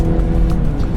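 A 2016 Mini Cooper S engine revs hard, a loud close, steady roar with a rough throaty edge filling the short moment without any voices.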